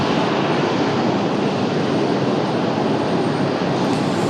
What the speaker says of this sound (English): This one coming in from Miami, an A319, 26 years of age.